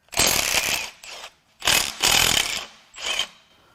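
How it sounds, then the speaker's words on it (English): A ratchet tool rapidly zips out bolts during a teardown of a Mitsubishi 4B11T turbo engine from a Lancer Evo X, in four close, loud clicking bursts separated by short silences. "We're just going to keep zipping bolts out."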